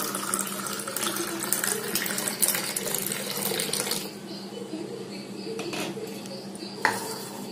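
Filtered pomegranate juice is poured into a tumbler, giving a steady close-up splashing stream. It softens partway through, with a few light knocks of glass or utensils.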